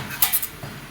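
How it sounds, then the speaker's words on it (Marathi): Spoon mixing spice masala into usal in a metal pot, making a few quick close clinks and scrapes against the pot's side within a short moment. "मिक्स करून घेऊया"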